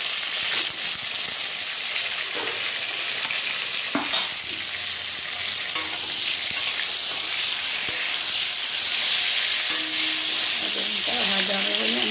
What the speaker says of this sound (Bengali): এবার আমি বেগুনটা এদিকে ভাজা যাচ্ছে, আর এদিকে বেগুনটা আমি ভেজে নিচ্ছি।